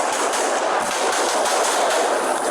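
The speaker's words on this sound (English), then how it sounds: "But still running toward the gunfire up the stairs to the bank entrance when Officer Wilt is shot." Rapid gunfire rattles during a police shootout at a bank, a dense, continuous crackle of shots that stays loud and steady throughout with no voices.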